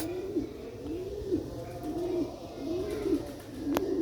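An old-breed black-headed Sialkot pigeon coos in a steady repeating rhythm, about one rolling coo per second, close and clear over a constant background hum, with a brief sharp click near the end.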